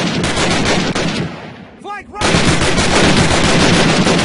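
Loud, continuous rattling gunfire in Call of Duty United Offensive, dense rapid shots that briefly drop out for a moment with a short ringing tone before the barrage resumes at full intensity.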